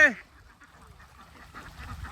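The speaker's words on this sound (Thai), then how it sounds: "เป็ดสวยค่ะสวยใช่ไหม" Young laying ducks give one loud, close quack at the very start, followed by faint background murmur.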